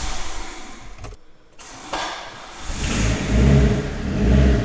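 A car engine cranks, catches and then runs roughly, revving unevenly under throttle, close by and growing louder toward the end.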